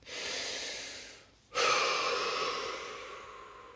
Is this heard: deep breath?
yes